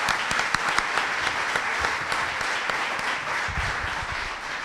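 Audience at a law course class on the right to identity applauding, a dense, steady clapping of many hands held evenly from start to finish.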